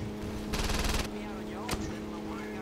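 A rapid burst of gunfire in Saints Row 2 rattles out, followed by a single sharp shot, over a steady electronic hum.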